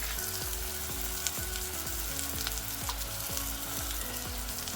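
About two tablespoons of mustard oil sizzle in a pan with spices for a Bengali curry, a constant bright frying hiss that stays even throughout with a faint repeating rhythmic pattern beneath.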